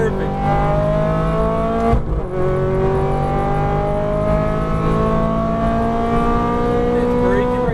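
Exotic car accelerating on a Las Vegas race track, engine note rising steadily and loud through repeated upshifts as the wheel unwinds out of a corner, with an instructor's voice coaching over it.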